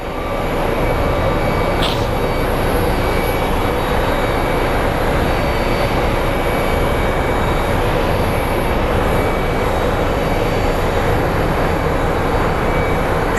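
Two American Airlines Airbus jets followed by Embraer regional jets taxiing at Phoenix Sky Harbor airport: a continuous low engine rumble and whine at moderate distance, with a brief high chirp early on and no voices.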